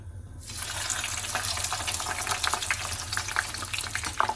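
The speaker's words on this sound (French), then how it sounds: "Une fois l'huile bien chauffée, vous pouvez mettre vos frites." Frozen fries dropped into very hot oil in a pan, a steady broad sizzle that starts abruptly after a brief silence and keeps bubbling and crackling, close and fairly loud, with no talk.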